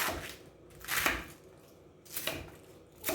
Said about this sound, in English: I'm just gonna finish just slicing up my cabbage